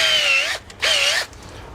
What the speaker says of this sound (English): So I got me a little drill bit. We'll put it in my drill.